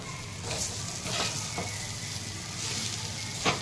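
Pieces of stale bhakri sizzle gently while being sautéed and tossed in a pan, with a steady soft frying hiss, a few scraping stirs, and a sharper clatter at the end.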